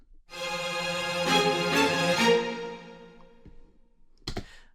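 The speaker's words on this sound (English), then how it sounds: "The first is we have cellos and violins playing tremolo." Cellos and violins play shaky tremolo notes in a string remix of a battle theme from Library of Ruina. The chord swells for about three seconds, then fades, followed by a brief click.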